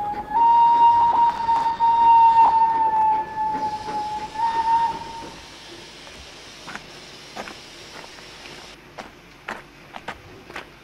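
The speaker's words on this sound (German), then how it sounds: "Sehen Sie die Lok mit den Güterwagen?" A locomotive hauling freight wagons, loud and near at first with a steady whistle-like tone and rumbling, then fading to quieter rolling and scattered clanks.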